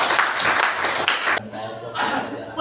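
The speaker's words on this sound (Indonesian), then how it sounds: "berikan tepuk tangan untuk si Ayu" Classroom applause for a student named Ayu during a school lesson on heredity, a short burst of clapping mixed with voices, then fading into quieter chatter.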